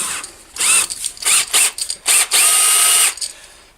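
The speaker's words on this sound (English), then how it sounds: "I found the drill I was looking for." An electric drill whirs in short bursts, starting and stopping several times before one longer steady run, close and loud, honing the cylinders of a 1963 Evinrude Lark 40hp outboard engine.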